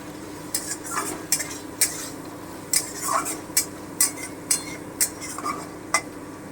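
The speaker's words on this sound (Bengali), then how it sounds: "আমি একটু ভেজে নেব আমি একটু ভেজে নিচ্ছি" Spices frying in a pan for a vegetarian chhanar dalna (paneer curry), with a steady low sizzle and repeated sharp clinks of a spoon scraping and stirring against the metal pan.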